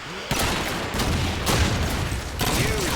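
Rapid gunfire bursts from a competitive shooter esports match at a Dallas 2025 tournament, including quick hip-fire shots, loud and continuous with dense layered shooting across the whole stretch.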